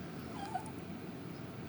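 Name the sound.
old blind deaf dog fussing and whimpering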